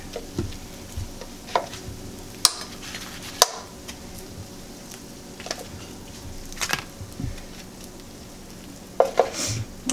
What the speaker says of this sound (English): The eggs are in cooking.